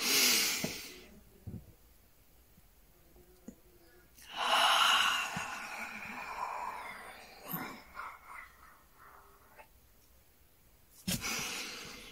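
A slow, deep breath drawn in during a Taoist-inspired guided meditation, a soft airy hiss that swells and fades close to the ear, followed by quieter breathing and a brief gasp near the end.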